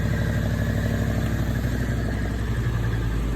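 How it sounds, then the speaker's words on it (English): A 1973 Ford Bronco with a 351 engine, a 302 cam and EFI idles steadily and close up, its low, loping rumble showing an uneven, misfiring pulse throughout with no talking. "That's a 1973 Bronco with a 351 engine in it."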